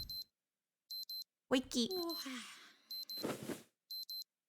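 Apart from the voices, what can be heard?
alarm clock ringing in visual novel video game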